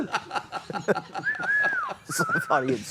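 Someone whistles a few gliding, wavering notes over chatter and light chuckling, close and fairly loud.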